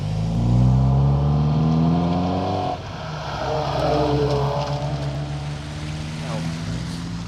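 A rally car on the 2025 RAC Rally crawls slowly into a stage stop, its engine a low steady drone that shifts and roughens partway through, close by, while people talk over it.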